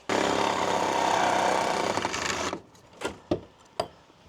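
Power tool roughly cutting through a metal door strut in a shed, a loud continuous buzzing grind for a couple of seconds that cuts out, followed by a few sharp knocks and clanks.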